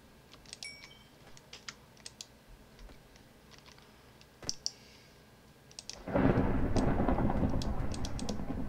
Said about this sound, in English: I can hear the thunderstorm